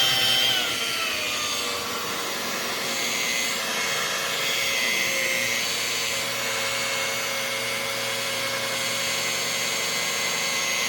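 A powerful car polishing machine with a soft pad drones steadily and loudly up close, its motor tone wavering slightly as it works over the paintwork of an E320, with no talking.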